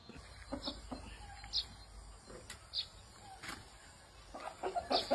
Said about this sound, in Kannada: ಕೋಳಿ ಉಂಟಿಲ್ಲಿ.